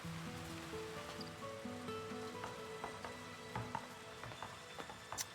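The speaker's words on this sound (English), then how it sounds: "Currently raining, so it's currently raining." Rain in the video game Surviving the Aftermath: a steady, even hiss of falling rain that runs throughout, with soft sustained game music tones and a few faint clicks beneath it.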